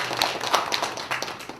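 Brief, scattered clapping from an audience at a regional development forum in Jecheon, a short patter of hand claps with uneven rhythm and no talk.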